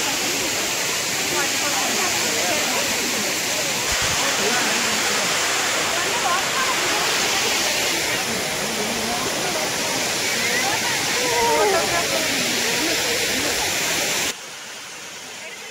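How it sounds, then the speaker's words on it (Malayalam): A waterfall in Kodaikanal roars loudly and steadily with dense rushing water noise, nearby and constant, while people talk faintly beneath it before the sound cuts off abruptly near the end. "ഇതൊരു വാട്ടർഫാൾസ് ആണ്"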